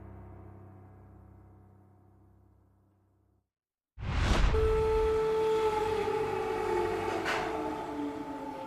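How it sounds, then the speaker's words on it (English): Air raid sirens wail steadily from a distance overnight in Kyiv, the tone rising and holding over a broad rushing background, following a quieter stretch and brief silence. "Air raid sirens ringing out overnight in Kyiv along with gunfire"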